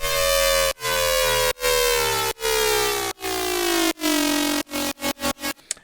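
A brostep synth patch on the Serum synthesizer blares in sustained, buzzing horn-like notes with downward pitch bends, cut by sharp gaps, ending in a fast stuttering burst, loud and alone.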